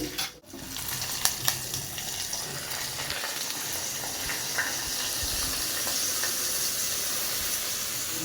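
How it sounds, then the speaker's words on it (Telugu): A tempering for tomato rasam sizzles in a home kitchen, producing a continuous broadband frying hiss. Scattered sharp crackles and pops ride on top of it, close and fairly loud, with no speech. "ఈ లోపే టొమాటో రసం కూడా మరిగిపోయింది సో ఆ రసంకి లో ఇంకా తాలింపు వేయాలి"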